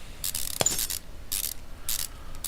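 Quick bursts of ratchet clicking from a wrench unbolting a car wheel in Car Mechanic Simulator 2015, several rapid clattering runs separated by short pauses, close and clear with no talking.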